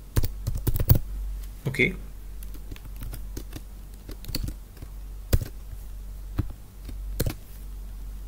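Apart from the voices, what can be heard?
typing on a computer keyboard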